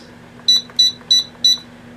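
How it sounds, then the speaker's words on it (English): A stand mixer's timer gives four short, evenly spaced electronic beeps in quick succession as it is set, clear and close over a low steady hum. "we are going to set our timer on here for 3 minutes, 4 minutes"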